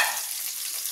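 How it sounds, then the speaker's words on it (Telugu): Sliced onions go into hot tempering oil in a pan while cluster beans are being cooked. They give off a bright, continuous hissing sizzle, close and fairly loud, with no voices. "ఇప్పుడు వచ్చేసి ఆనియన్స్ వేద్దాము. ఇవి కూడా 2 మినిట్స్లో వేగిపోతాయి."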